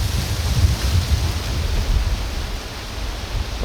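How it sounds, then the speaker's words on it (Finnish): Strong wind buffets steadily in an outdoor recreation area in summer, a continuous roaring rush with heavy low rumble as gusts batter the microphone. "Oho, onpas tuuli."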